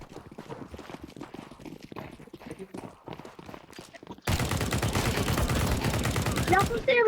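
Rapid automatic gunfire from a weapon in Counter-Strike 2 erupts loud and dense after a few seconds of quieter clicking and scattered game sounds, sustained to the end.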